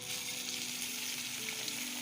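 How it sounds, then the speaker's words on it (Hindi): Chicken leg pieces frying with onions in a pot for biryani, a steady, close hiss and sizzle of hot oil that stays even throughout with no talking. "अब इसको अच्छे से फ्राई कर लें।"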